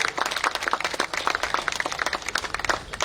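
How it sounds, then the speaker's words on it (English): A crowd at a political welcome event claps for an honoured guest, a folk dancer and academy vice chairman, with distinct individual hand claps forming a lively, close round of applause. "Round of applause, please."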